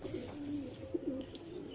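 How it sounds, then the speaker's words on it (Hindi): A teddy pigeon coos softly at home, a few low, rounded coo notes in quick succession over a muffled, noisy background, close but fairly faint. "तो ये टैडी कबूतर है।"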